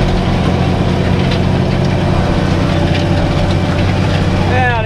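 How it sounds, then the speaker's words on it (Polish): Ursus tractor engine running at full load while cultivating a stony field in heavy conditions, a loud, steady low rumble close by throughout with no letup. "sam dźwięk silnika mówi swoje."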